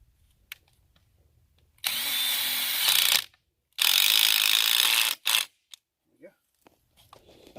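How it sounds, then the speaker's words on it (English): A power drill backs a screw out of wooden boards, two long loud whirring bursts followed by a short one, close up with near silence between, while people talk in the quiet gaps. "That's how we screw our boards off."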